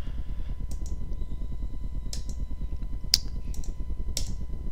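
Keys tapped on a computer keyboard in a quiet room, a handful of sharp separate clicks spaced irregularly over a faint steady fan hum.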